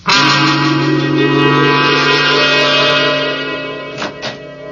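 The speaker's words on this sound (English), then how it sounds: "Doorbell." Radio-drama doorbell: a single loud, sustained electric chime with a bright harmonic tone that holds for about three seconds and fades, followed by a couple of faint knocks.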